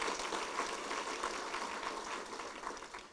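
Applause from an audience at a provincial State of the Province speech event, a steady dense clapping wash sustained throughout, fairly distant and even, with no talk over it.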